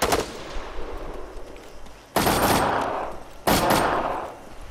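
Squad-based shooter game: bursts of automatic rifle fire are poured into shrubbery beside a house. There are three loud, sharp volleys a second or so apart, each ringing out with a long echoing tail.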